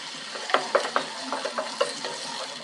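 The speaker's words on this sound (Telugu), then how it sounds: "ఒక టమాటో సన్నగా కట్ చేసి పెట్టుకొని ఇందులో వేసుకొని కలుపుకోవాలి" Finely chopped tomato is stirred into ginger garlic paste frying in a pan, with a run of crisp, rhythmic spoon scrapes and clicks over a continuous close sizzle.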